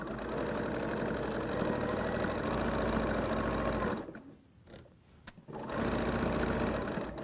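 A sewing machine stitches a pocket onto a tote bag, a loud, close, rapid mechanical whirring that runs steadily, pauses briefly with a few faint clicks, then starts up again.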